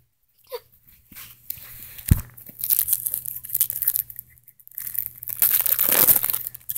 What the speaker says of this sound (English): I got some scissors right there